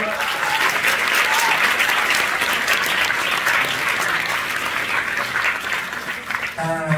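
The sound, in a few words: applause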